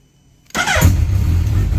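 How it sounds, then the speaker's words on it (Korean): A 2022 Suzuki Hayabusa motorcycle engine with about 8,900 km on it starts after a short quiet moment. It catches at once with a loud, close crank-and-fire burst, then settles into a steady, rumbling idle. "한번 시동 걸어볼까요?"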